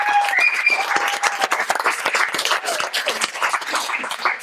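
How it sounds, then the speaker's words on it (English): Audience applause at a League of Women Voters candidate debate in Carlsbad: a dense burst of hand clapping close by that thins out gradually over a few seconds. "hold your applause, please"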